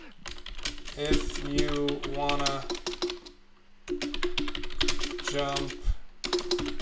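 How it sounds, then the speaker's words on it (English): Rapid keyboard typing clatters steadily throughout, a dense run of close clicks and taps, with someone talking over much of it and a brief lull in the middle. "this is keyboard ASMR"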